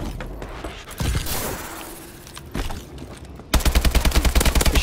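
Call of Duty: Advanced Warfare gameplay has scattered loud gunshots and impacts, then a rapid, evenly spaced burst of automatic fire near the end, close and forceful.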